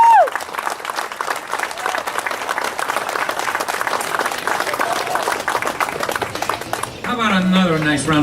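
An outdoor ceremony crowd at the South Pasadena Cruz'n for Roses event claps and cheers steadily after the anthem, then a voice over a loudspeaker starts talking as the applause continues underneath near the end.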